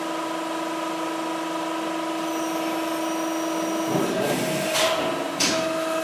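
MAC ESTUN E200 press brake bending a metal part, a steady hydraulic motor hum with a tonal whine, then a heavier pressing surge and a couple of brief hissing releases near the end.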